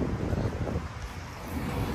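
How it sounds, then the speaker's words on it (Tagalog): Steady wind buffeting the microphone, a low rumbling roar that stays constant throughout with no voices. "Mahangin, nakakapuwing."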